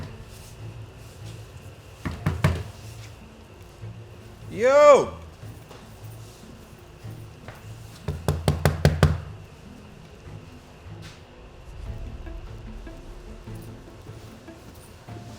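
A locked train door rattles and thumps in two bursts of quick, repeated knocking pushes, with a brief shout between them and quiet talk nearby.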